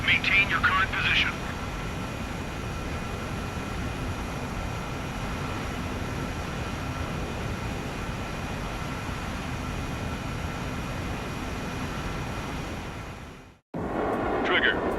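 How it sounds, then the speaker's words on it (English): Fighter jet engines hold a steady, loud broadband roar during aerial refueling in the Ace Combat 7 video game, droning unbroken for most of the clip before a brief dropout, with faint radio-style chirps near the start. "Refueling initiated. Maintain your current position."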